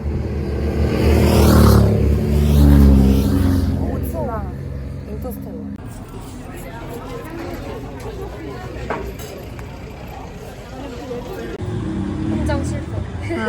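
A car drives fast over rough desert tracks on a tour in Morocco, its engine roaring loud early and then settling into a rattling rumble, with passengers' excited voices chattering over it.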